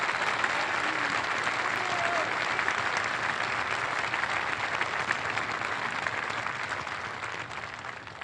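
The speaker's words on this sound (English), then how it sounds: "Give him a round of applause." Sustained, dense applause from a large outdoor audience at the U.S. Coast Guard Academy commencement, steady throughout and easing slightly toward the end.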